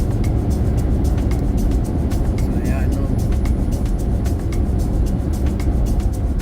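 A Ford Ranger T6 pickup truck cruising on the road, heard from inside as a steady loud rumble of engine and road noise while a person talks briefly.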